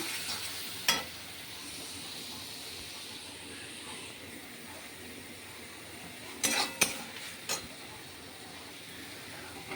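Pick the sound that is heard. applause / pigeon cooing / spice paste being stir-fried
spice paste being stir-fried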